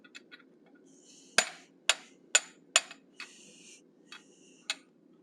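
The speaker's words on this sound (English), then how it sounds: "now I'm using the radius edge on my anvil, and I'm going to continue to round up his snout" A hammer strikes hot steel over an anvil's radius edge while a blacksmith rounds the snout of a forged animal head, a handful of bright metallic hits spaced about half a second apart over a low hum.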